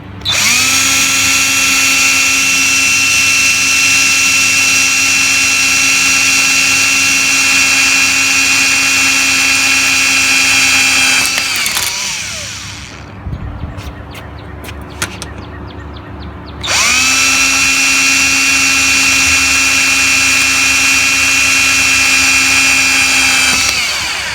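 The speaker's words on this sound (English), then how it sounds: "I'm going to pre-drill the rest of the hinge holes" A power drill whines loudly at steady speed for several seconds, pre-drilling hinge holes for a storm door install, stops briefly amid small clicks and handling noises, then drills again for a long stretch.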